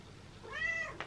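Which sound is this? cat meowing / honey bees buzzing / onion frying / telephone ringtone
cat meowing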